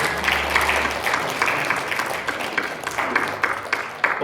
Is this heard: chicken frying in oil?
no